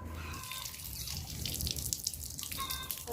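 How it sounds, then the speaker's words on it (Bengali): Leafy greens and chopped vegetables for a curry being rinsed in water, with steady dripping and trickling throughout, fairly close and continuous, with no talking. "তো সুন্দর করে ধুইয়া নিব এখন"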